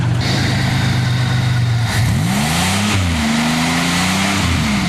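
A car engine keeps running with its battery disconnected, idling steadily and then revving in rising and falling surges, loud and close with no talk.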